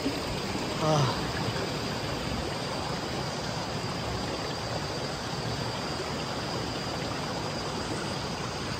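A mountain stream on a Darjeeling trek near Sittong flows steadily as a continuous broadband rush close by, with a brief faint voice near the start.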